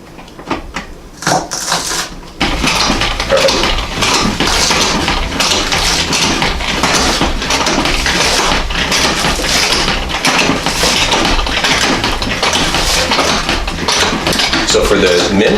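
A salad spinner whirs steadily as it spins washed parsley for tabouleh, a continuous loud rattling rumble that starts after a moment of handling and runs to the end, with a voice talking over it.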